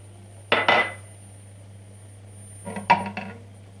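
A metal pot lid clanks onto a pot of artichoke rice pilaf, two short clattering knocks about two seconds apart over a faint steady hum, with no talk.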